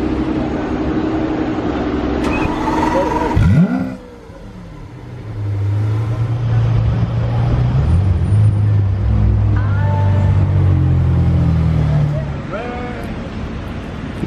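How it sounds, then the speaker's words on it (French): A Lamborghini Aventador SV starting up on a Monaco street: a sharp ignition burst, then a loud, deep rumbling idle that holds for several seconds before easing off, with background voices and street noise around it. "Aventador SV de Rana qui va démarrer"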